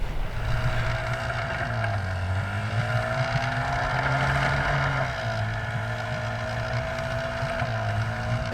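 A troubled tour boat engine runs loud and close near an Icelandic glacier, a steady rough drone whose pitch sags and rises as it labors, with wind buffeting underneath the whole time.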